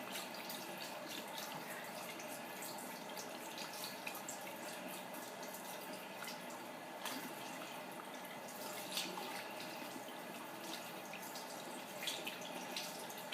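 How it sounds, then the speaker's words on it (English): Water running and trickling over hair during a gentle ASMR hair wash, soft close splashing and dripping with faint irregular patters, quiet and continuous. "And just wetting your hair. All over."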